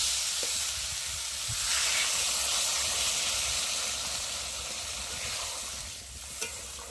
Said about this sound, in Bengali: তো চলো, এখন আমি জল দিয়ে ভালো করে ফুটিয়ে নিই